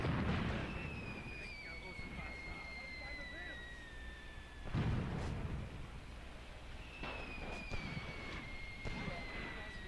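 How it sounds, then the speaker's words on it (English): A single heavy grenade blast bursts out midway through close-quarters combat in the World War II tactics game Graviteam Tactics, set around Kharkov in 1941, over a rumbling battlefield din with high whistling tones before and after. "I think they threw a nade in here"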